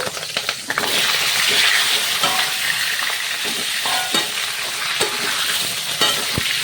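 Cut vegetables hit hot mustard oil that has been tempered with whole cumin and green chillies, for a hilsa and green-banana curry. A loud, dense sizzle flares up and carries on steadily, with occasional clinks and stirring scrapes and no talk.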